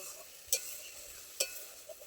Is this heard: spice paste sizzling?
yes